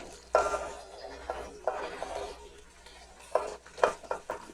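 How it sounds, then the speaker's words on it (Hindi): Mixed vegetables drop into a pan of frying green chillies and are stirred for a quick pickle, with spoon scrapes and knocks over a steady low sizzle. "अब हम इसमें अपनी बाकी वेजिटेबल भी डाल देंगे।"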